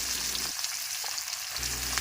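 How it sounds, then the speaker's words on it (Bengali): Onion fries in hot oil in a wok, a loud continuous hissing sizzle with a low rumble that drops away briefly in the middle, no voices. "লাল করে এখানে ভেজে নেব।"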